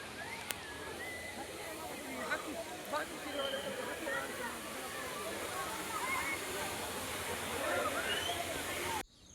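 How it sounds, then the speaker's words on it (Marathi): Waterfall near a hilltop temple at Ramling, a steady broadband rush of falling water filling the whole stretch, fairly loud and continuous, with faint voices and small knocks now and then. "आणि इकडल्या साईडला धबधबा होता"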